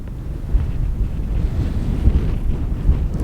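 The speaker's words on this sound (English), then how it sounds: "Windy morning, but it's beautiful." Steady morning wind in Arches National Park, Utah, buffeting the microphone with a continuous low rumble and gusts rising and falling, with no voices.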